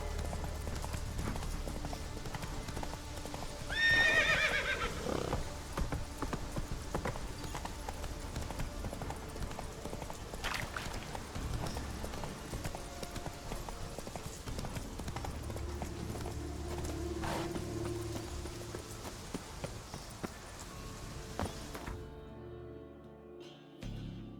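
Roach the horse gallops in The Witcher 3, a steady clip-clop of hooves running through most of the stretch with a brief whinny-like burst near the start, then the sound cuts off abruptly at the end.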